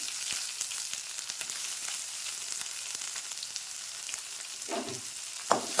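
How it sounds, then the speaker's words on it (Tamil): Chopped large onion with curry leaves and coriander frying in hot oil for a cauliflower poriyal, a steady, fairly soft sizzle throughout with sparse ticks and pops and a couple of brief spatula scrapes near the end. "வெங்காயம் வதங்கட்டும்"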